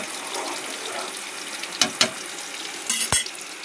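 Soft, steady frying sizzle of pumpkin in oil throughout, broken by a few sharp clinks and scrapes of a utensil against the pan.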